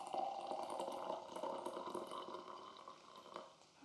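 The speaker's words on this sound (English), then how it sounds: "So I just add some water." Water poured into a cup to mix Chinese herbal medicine powder, a soft steady trickle close by that eases off toward the end, no talking over it.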